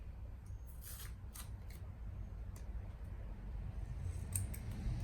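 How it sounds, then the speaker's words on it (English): Scissors cut up a washi tape box with sharp crisp snips and papery crunches, several scattered cuts close by over a quiet low background hum. "I'm cutting up the washi box right now"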